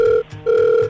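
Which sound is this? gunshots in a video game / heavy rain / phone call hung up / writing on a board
phone call hung up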